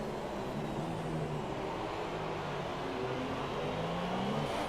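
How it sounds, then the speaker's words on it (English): F1 cars from the F1 2017 video game on the formation lap at the Canada circuit, a steady, moderately distant drone of several engines with gently rising and falling pitch and no voices. "The formation of cars making their way towards that start finish line."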